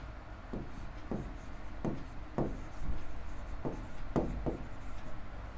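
Pen or marker writing by hand on a board or paper during an essay-writing lesson, a series of close, short scratchy strokes at an uneven rhythm.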